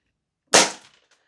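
A single sharp crack from a Tokyo Marui airsoft pistol firing 0.25 g BBs on propane gas, close and loud out of silence, decaying quickly with a faint mechanical rattle after.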